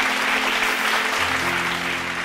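Applause from an audience at a business talk, a steady dense patter of clapping that fills the room before easing slightly toward the end, with no voices over it.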